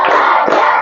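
Classroom of fourth-grade students clapping together in a short patterned rhythm before a lesson, a loud, close burst of unified hand claps from a group in a room.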